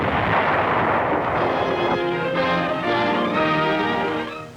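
Artillery and gunfire from WWII combat on Iwo Jima, as shelling pounds the slopes of Mount Suribachi: loud, sustained booming and rolling blasts, dense at first and then joined by layered, droning tones, with no speech.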